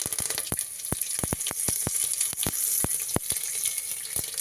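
Cumin seeds and curry leaves, added after mustard seeds, crackle and sizzle in hot oil for a tempering. A steady frying hiss runs under a rapid scatter of sharp pops and spits, close and fairly loud, with no talking.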